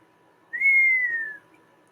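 A single low, smooth whistle, likely a person imitating a turtle, rises slightly then glides gently downward over about a second, alone against quiet room tone.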